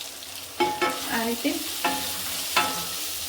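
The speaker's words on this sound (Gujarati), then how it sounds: "મરચાં એડ કરીશું 2 કાશ્મીરી" Two Kashmiri chillies sizzle in a pan for sambar, with a spoon clattering against the metal in a few sharp stirring strokes and a short spoken phrase over the frying.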